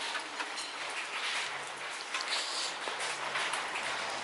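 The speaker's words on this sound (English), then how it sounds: "It's raining again." Steady rain falling outside a dining area in Chiang Mai, a continuous soft hiss of drops on surfaces with no talking.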